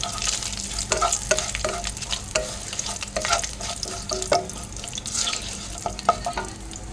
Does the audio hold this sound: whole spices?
yes